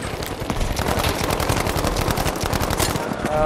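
Rapid automatic gunfire from a weapon in the World War II shooter Battlefield 5, dense and loud bursts rattling continuously for several seconds with a brief voice underneath.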